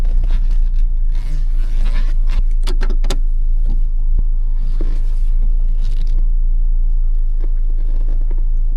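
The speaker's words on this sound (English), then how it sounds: "Now I'm just gonna turn this wagon around." A car towing a short trailer turns around on a dirt trail, its engine rumbling steadily up close, with intermittent scrapes, knocks and rattles over the rough ground.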